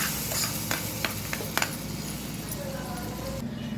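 A spoon stirs a bowl of curd vadas mixed with tempering, making soft, close scraping and a few sharp clinks against the dish over a faint hiss.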